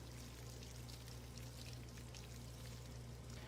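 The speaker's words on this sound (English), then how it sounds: "The sound of water comes from the toilet." Water runs from a toilet in the horror game Spirit Hunter: Death Mark II, a faint, steady pouring trickle under a low background hum, continuous throughout.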